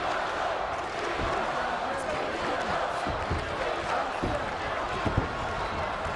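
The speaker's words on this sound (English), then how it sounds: "Listen to this crowd here in Glasgow." A large wrestling crowd in a Glasgow arena roars continuously during a TNA tag team match, with a dense, sustained crowd din and occasional thuds from the ring.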